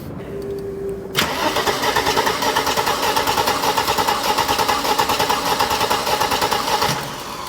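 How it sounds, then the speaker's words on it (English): A Mercedes R107 SL cranks over without firing, the starter motor churning in a fast, even rhythm for about six seconds before cutting off, loud and close under the hood. "Crank the engine over,"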